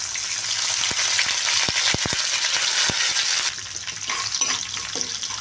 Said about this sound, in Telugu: ఇప్పుడు పిన్నులపాయలు దంచినవి ఒక రెండు పచ్చిమిర్చి కరివేపాకు కూడా వేసేసుకున్నాం